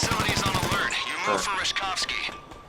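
Gunfire in GTA V Online during a prison break heist. Rapid automatic bursts crack at the start, followed by scattered shots under someone talking.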